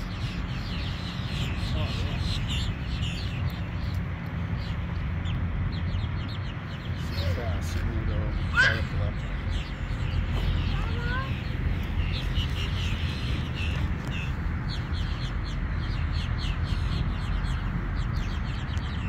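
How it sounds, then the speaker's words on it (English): Chickens and other birds at a rest stop in Georgia, scattered clucks and bird calls heard faintly over a steady low outdoor rumble, with people talking intermittently. "Anastasia, let's go see birds."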